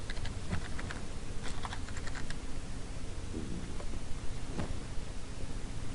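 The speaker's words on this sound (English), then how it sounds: "To see the effect again, I will type 3." Fingers type a short command on a computer keyboard, rapid clicky keystrokes in brief bursts close to the mic with a couple of heavier key presses.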